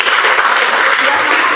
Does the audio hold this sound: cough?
no